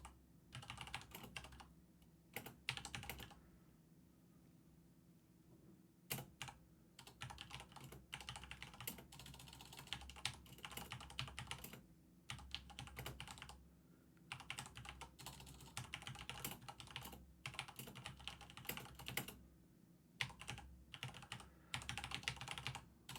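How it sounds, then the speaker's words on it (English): Fast, uneven bursts of clicking keys on a computer keyboard, close and clear, with brief pauses between runs of typing and no talking. "enjoy this bit of me typing because, you know. Tap tap tap tap tap tap tap tap"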